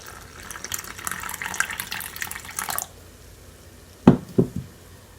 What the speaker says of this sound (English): So now I'm just gonna add my water